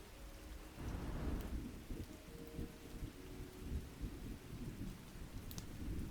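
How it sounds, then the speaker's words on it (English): Thunderstorm with rain from an ambience mixer, a steady patter of rain under low rolling thunder that swells in just after the start and rumbles on, soft and continuous. "I like the sound of thunder, but not too much."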